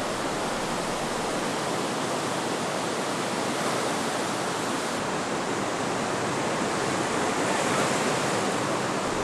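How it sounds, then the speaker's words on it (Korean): Swollen river water rushing and roaring steadily as it rises rapidly after rain, a dense, loud, unbroken broadband torrent with no voices. "급속도로 불어나는 강물"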